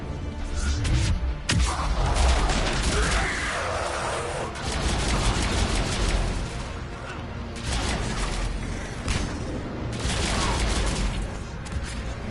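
Gunfire in the video game Mass Effect 3, Omega DLC: dense, sustained bursts of weapon fire with booming impacts, loud and continuous with short lulls.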